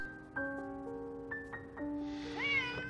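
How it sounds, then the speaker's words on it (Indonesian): A hungry cat meows several times in a row, short tonal calls ending in a longer, rising plaintive meow, close and clear over a quiet background. "Bob terus-terusan mengeong karena kelaparan."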